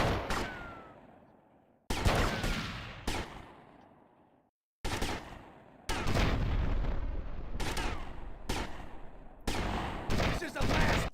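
Loud gunfire bursts erupt in GTA Vice City, separate volleys cut apart by short silences and then a long, dense stretch of rapid shooting, with a voice speaking in places.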